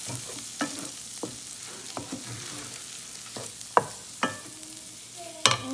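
Soft, steady sizzling of coriander powder and garam masala sautéing in a pan for mushroom gravy, with intermittent scraping and clinks of a utensil stirring, fairly quiet and close.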